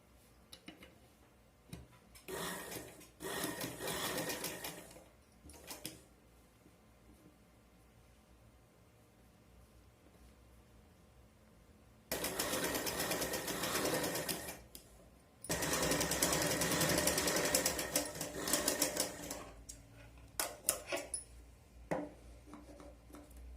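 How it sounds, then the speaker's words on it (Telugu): A sewing machine stitches piping onto a dress neckline, running in loud rapid rattling bursts, a couple of short runs early on, then long sustained stitching with brief pauses, close and alone. "డైరెక్ట్గా స్టిచ్చింగ్ చేస్తున్నాను పైపింగ్కి"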